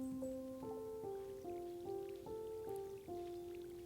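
Steady patter of rain falls in the Stardew Valley farming game, a soft, even hiss running beneath a gentle descending melody of stepped musical notes.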